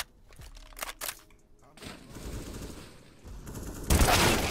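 Gunfire from a Counter-Strike-style online shooter, a few sharp shots early on, then a denser burst of automatic fire that grows loudest near the end, with faint background game noise.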